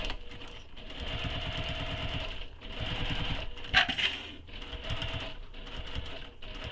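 A sewing machine runs long basting stitches through foam while making a tote bag, its motor whirring in steady bursts with short pauses between runs, close and fairly loud with no talking.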